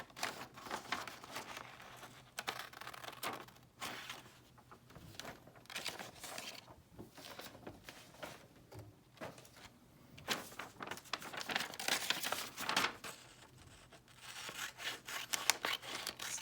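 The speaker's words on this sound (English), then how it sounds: "Let's cut out our K's." Scissors cutting capital letter K shapes out of paper: quiet, close, irregular snips with papery rustling and crinkling throughout, no voices.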